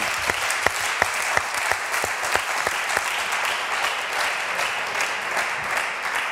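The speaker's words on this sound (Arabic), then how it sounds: "نحب تصفيق على خليل وعلى ادم الجسمي" Studio audience applauding two guests on a Tunisian television show, steady dense clapping throughout with a few sharper claps standing out early on.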